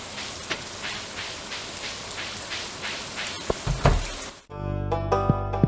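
Steady rain hisses down like static with scattered drops tapping, then abruptly gives way to ringing chime-like game tones near the end.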